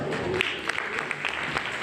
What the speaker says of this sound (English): a round of applause to all the winners